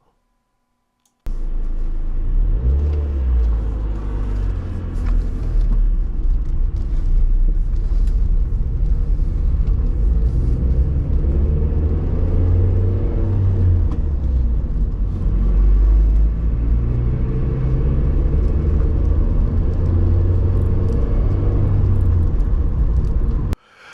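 A car driving through North Yorkshire villages, with a loud, continuous low road rumble and engine drone from start to end, plus faint clicks and no talking.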